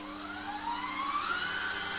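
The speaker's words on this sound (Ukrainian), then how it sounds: "Ну що, включаємо і починаємо молоти наш" An electric meat grinder runs steadily while mincing meat, onion, bread and potato for cutlets, giving a loud, continuous motor whine whose pitch slowly rises over two seconds, heard close with no talking.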